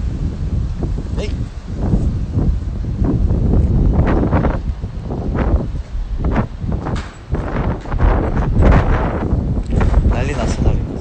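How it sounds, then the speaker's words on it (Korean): Strong outdoor wind buffets a phone microphone in low, rumbling gusts that rise and fall. A voice speaks intermittently under the roar. "날씨는 좋고 바람도 열심히 불어서 너무 좋은데"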